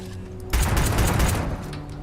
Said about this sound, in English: Why are you shooting at it?